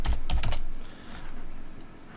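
Quick bursts of typing on a computer keyboard, a handful of close, crisp keystrokes clustered at the start, then softer scattered taps in a quiet room.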